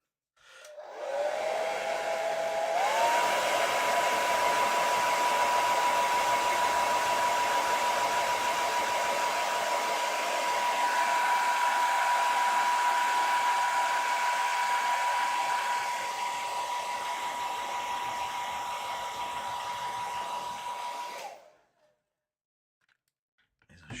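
A hair dryer runs steadily at a painting table, a loud, continuous airy whoosh with a faint whine that rises in pitch early on, holding for about twenty seconds before cutting off abruptly.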